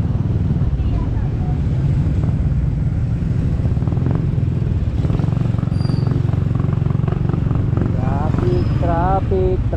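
A motorcycle engine drones steadily throughout, loud and close, with wind rush and faint traffic; brief high tones chirp near the end.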